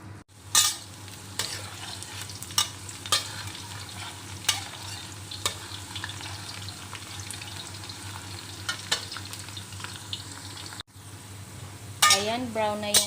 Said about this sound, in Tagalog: Ayan, brown na yung ating bawang.